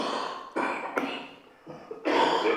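A run of harsh, close coughs in quick bursts, each breaking off sharply and then followed by another.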